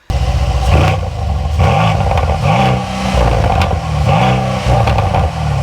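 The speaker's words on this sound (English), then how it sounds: "rather muted even in its most aggressive exhaust mode when it comes to the actual roar heard outside of the car" A Mercedes C63 AMG V8 exhaust revs repeatedly in short bursts, each throaty rise dropping back before the next, loud and close with no talking.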